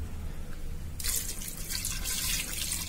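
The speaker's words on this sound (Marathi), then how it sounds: "यामध्ये थोडं पाणी टाकणार आहोत।" Water splashes and trickles into a metal pressure cooker holding raw mangoes, a steady pouring sound starting after a brief quiet moment and continuing close by.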